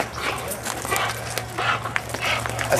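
A dog in a yard barks and whimpers in short yips over steady background hum, while people talk nearby.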